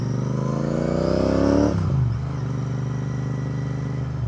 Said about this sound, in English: So these exhaust are very silent if you compare it with the other exhaust.